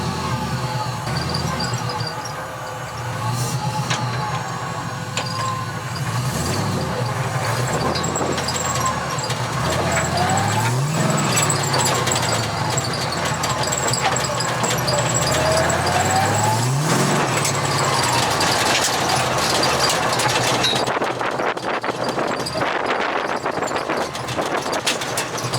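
The engine of an abandoned Mazda FC RX7 idles continuously and loudly, a steady rotary drone with occasional rising squeal-like sweeps and some wind buffeting, with no talk over it.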